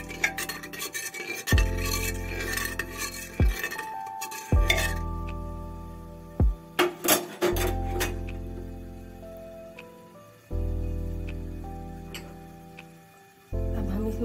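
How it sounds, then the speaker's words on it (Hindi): A metal spoon stirs moong masoor dal with chilli, turmeric and salt in a cooking pot, giving repeated scraping clinks and taps against the vessel over a low background hum, close and fairly clear. "हल्के से चम्मच चलाएंगे।"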